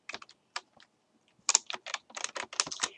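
Date being typed on a computer keyboard, crisp clicking keystrokes in irregular bursts, a few isolated taps then a quicker run of presses, close and fairly quiet.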